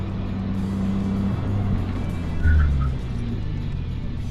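A car brakes from about 80 km/h on freshly fitted 285 mm Runstop discs with ceramic pads, giving a steady loud road and engine rumble with a brief low swell as the car slows.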